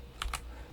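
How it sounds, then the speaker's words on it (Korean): Two quick keystrokes sound close on a new, sensitive computer keyboard, light clicks in a quiet room. "제가 키보드를 바꿨더니 예민해서"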